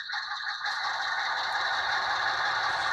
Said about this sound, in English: If the engine noise is really annoying